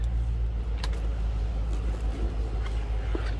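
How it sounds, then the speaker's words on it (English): A 2007 Ford Mustang Shelby GT engine idles nearby with a deep, throaty, steady rumble from the exhaust, low and continuous throughout. "Nice sounding car, some nice deep throaty exhaust to them."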